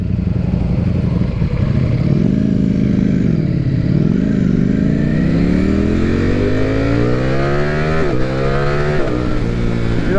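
2020 Ducati motorcycle, a Streetfighter V4 S or V2 Panigale, ridden hard and accelerating, engine loud and close with a rising pitch through the gears and a brief dip at a shift.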